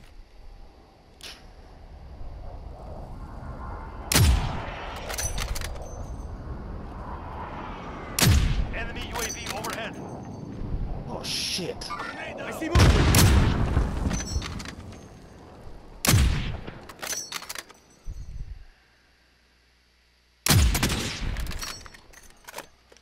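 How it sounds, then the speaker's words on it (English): Gunfire in Call of Duty: Modern Warfare rings out in repeated loud bursts and single sharp shots, some close and some more distant, with rapid automatic volleys and short gaps between them over a steady game background. "like somebody like right below us shooting"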